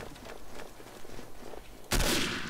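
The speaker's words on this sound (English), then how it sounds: "That was a top shot on that guy" A single loud gunshot bursts out near the end of a gameplay moment in the World War II shooter Day of Defeat, fired from a sniper rifle and following quieter rustling ambience.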